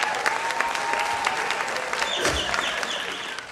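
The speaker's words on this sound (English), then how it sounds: "I want a big round of applause for my mother." Dense applause from a large audience at a black tie fundraising ball, steady clapping filling the room throughout at a strong, even level.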